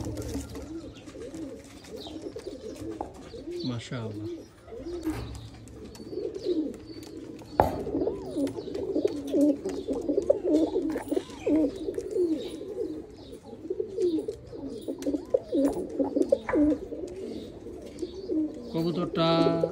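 Oman Teddy pigeons coo in low, repeated throaty calls close by, while someone talks over them almost continuously.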